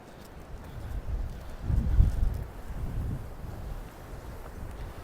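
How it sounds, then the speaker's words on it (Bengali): Cold wind blows in from the sea on the Maltese coast near Ramla beach, heard as a steady low rumble and buffeting of wind against the microphone that swells in the middle, with no talking. "সমুদ্র থেকে প্রচুর পরিমাণে ঠান্ডা বাতাস ভেসে আসছে"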